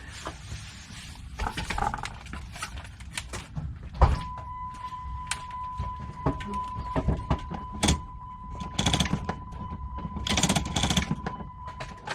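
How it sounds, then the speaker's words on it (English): A Jeep Wrangler JK manual shifter is worked through all the gears after a linkage bushing fix, giving scattered close clunks and knocks over a faint steady whine. "let me shift it through all the gears, let you see that"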